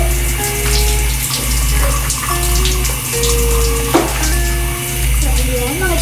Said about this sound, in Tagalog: So after swimming, mag-shower na lang ako, mag-hot shower na lang ako.